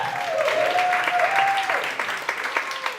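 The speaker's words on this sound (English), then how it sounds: "so give it a round of applause, man" A comedy club audience applauds at the Comedy Zone, a dense wash of clapping with a few whoops, fairly close and steady before thinning toward the end.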